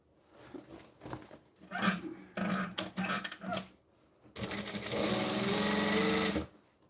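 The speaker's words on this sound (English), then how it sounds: "with the base of this bag, I'm literally only going to sew this flat edge for now" Sewing machine stitching the flat base edge of a fabric bag: short stop-start bursts of rapid mechanical patter, then one longer steady run of stitching about two seconds long, close and clear.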